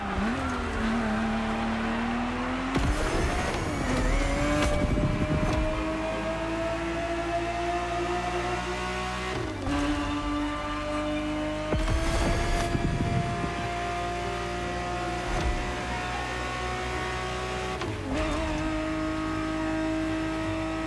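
Engine of a Ferrari 365 GTB4 racing in The Crew Motorfest, a loud continuous roar that climbs steadily in pitch through the gears, dipping briefly at each shift, close and dominant throughout.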